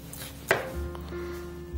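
A knife strikes a cutting board once, a sharp single chop while preparing a home-cooked salad with canned corn and mango, followed by quiet kitchen handling and no talk.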